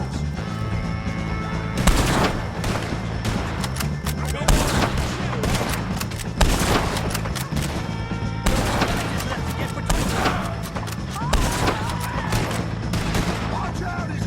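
Heavy gunfire in the Red Dead Redemption 2 game during a shootout with O'Driscoll gang members, loud close volleys of shots cracking repeatedly across the scene, with voices shouting in between.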